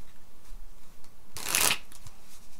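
Tarot cards are shuffled once in a short, crisp riffle burst lasting under half a second, with a quiet room before and after.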